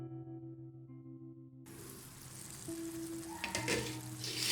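Chicken karahi cooks in masala over a medium-low flame, with a soft steady sizzle that comes in after a tonal hum and builds as stirring clatter rises near the end.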